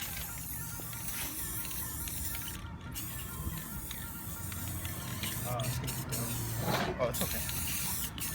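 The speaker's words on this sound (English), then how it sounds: "Try not to spray too close to these light objects" Short hissing bursts of a spray paint can, repeated a few times close by, with a person talking over them.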